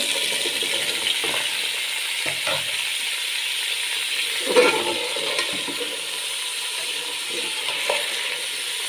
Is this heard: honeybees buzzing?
no